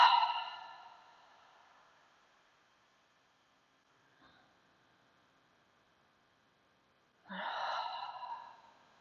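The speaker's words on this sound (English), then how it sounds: "take a couple deep breaths. Inhale through your nose. And exhale, let it go." Two slow, deep breaths, drawn in through the nose and let out as long airy exhales, close and soft, with a near-silent pause between them and no talking.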